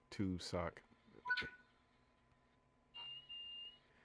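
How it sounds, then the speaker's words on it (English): Brief talking at the start, then a quiet pause, followed by two high electronic beeps from an alarm in close succession. "the alarm that broke my ears."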